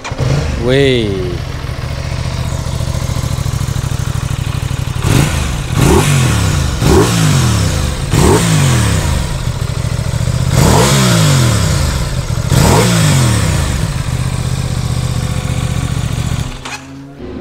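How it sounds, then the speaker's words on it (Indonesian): A 660 cc two-cylinder motorcycle with a 270-degree firing order starts up, then idles with a rumbling, uneven beat and gets about six sharp throttle blips before cutting off, loud and close, with a brief exclamation from a man. "Makanya motor ini punya suara mesin yang bergemuruh seperti mesin-mesin V4."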